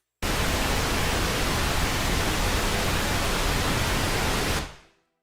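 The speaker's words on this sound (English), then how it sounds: "Pink noise is a type of static where all the frequencies are approximately equal." A burst of pink noise test signal plays loud and steady for about four and a half seconds, then fades and cuts off into silence.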